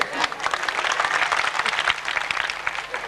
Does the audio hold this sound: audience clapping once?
yes